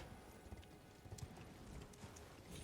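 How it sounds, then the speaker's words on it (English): Horse hooves clip-clop steadily while riding in Elden Ring, a continuous rhythmic trot with occasional heavier hoof strikes, fairly quiet and close, with no talk over it. "I can ride a horse here."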